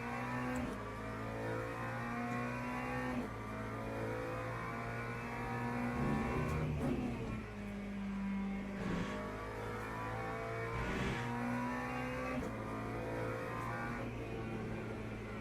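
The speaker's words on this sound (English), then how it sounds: "The McLaren with default setup, it's an understeery car." McLaren race car engine in the racing sim Le Mans Ultimate, a faint, continuous droning tone that rises and falls as the car accelerates and shifts through several gear changes, heard alone without talk.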